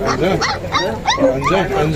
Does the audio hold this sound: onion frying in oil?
no